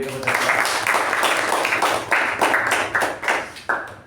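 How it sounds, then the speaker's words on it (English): Applause at a Toastmasters meeting from a small audience, with distinct individual claps that start together, then thin out and tail off in separate bursts. "So let's give a round of applause to him."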